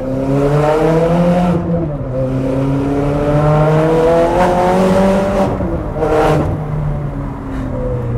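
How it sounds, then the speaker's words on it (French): A Ferrari 430 Scuderia, naturally aspirated V8 with Capristo exhaust, accelerates through several rising pulls, each cut by a sharp gear change, the loud engine note climbing again after every shift. "Oh, cet échappement Capristo."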